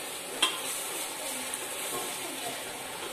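Green chilli and crushed ginger and garlic fry in a pan with a soft, steady sizzle, stirred once with a brief clink near the start, close and quiet with no talking.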